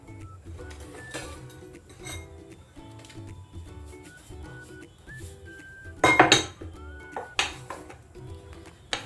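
A lid is set on a pot of chicken biryani over a low flame and a heavy mortar and pestle is placed on top as a weight. Nearby metallic clanks and clinks come in scattered knocks, with a louder clattering cluster midway.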